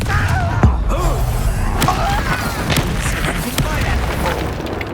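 A Confringo blasting spell bursts in Hogwarts Legacy combat, a deep booming explosion among scattered thuds and magical effects, with voices talking over the fight.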